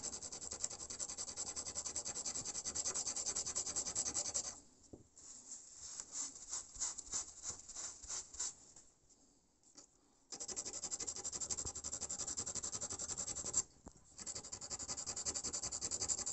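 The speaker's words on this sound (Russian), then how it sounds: "И вот так вот убираем землю с монеты." Steady dry rubbing and scraping as soil is brushed off a coin, close up, continuous with a few short pauses and bursts of quicker strokes.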